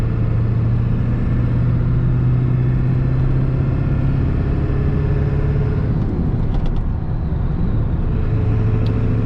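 A 1996 Ford F-350 with the 7.3 engine and manual transmission drives along, its deep, steady diesel rumble filling the cab continuously, with a slight shift in engine tone partway through.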